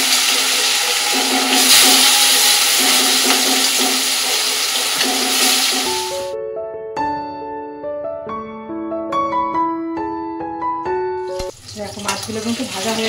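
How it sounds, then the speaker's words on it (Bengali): Rohu fish pieces hit hot mustard oil in a wok with a loud, dense sizzling hiss for about six seconds, after which tonal music takes over with the frying faint underneath. "এবার রুই মাছগুলো একটু ভেজে নেবো।"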